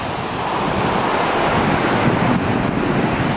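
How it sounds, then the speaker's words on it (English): Loud, steady roar of ocean surf at the rock pools in Newport, with continuous wash and some wind buffeting the microphone, and no talk. "So this is Newport Surf, and this is in the Rock Pools."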